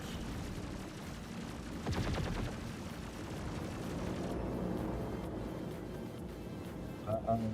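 Ship weapons fire in the Star Citizen space game as a dense, rumbling barrage of rapid bursts, with a sharper volley around the two-second mark, while a voice talks over the continuous combat noise.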